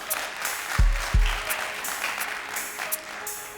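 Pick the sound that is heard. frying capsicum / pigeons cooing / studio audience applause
studio audience applause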